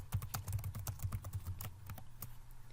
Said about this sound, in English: And I can immediately begin typing my thoughts.